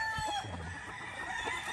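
Roosters, including a pure Dan Gray Lazy Roundhead gamefowl, crow and cluck nearby in a farm setting, their calls overlapping amid a busy background.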